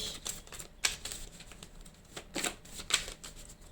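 Tarot cards being shuffled for a reading, a soft papery riffling with several brief louder bursts of slapping cards amid quieter rustling, close by and with no voices.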